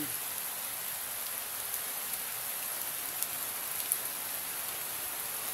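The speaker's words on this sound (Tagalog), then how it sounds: "ang lakas po ng ulan" Heavy rain pours steadily as a dense, constant hiss, with a few sharper drops pattering close by and no voices.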